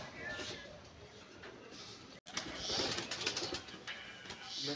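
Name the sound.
Giribaz pigeon cooing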